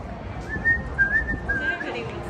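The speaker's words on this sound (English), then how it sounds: "my whistling is obnoxious" A person whistles a short, wavering tune, fairly close, over a low rumbling background.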